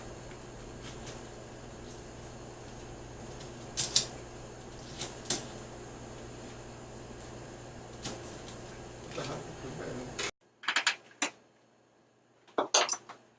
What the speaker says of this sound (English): So I'm just going to chop my cucumber